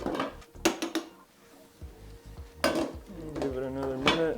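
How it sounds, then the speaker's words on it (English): A metal lid clanks onto a cooking pot with a couple of quick clatters, followed by a person talking nearby in a kitchen while orecchiette with sausage and broccoli rabe are being prepared. "we'll pop the lid on there"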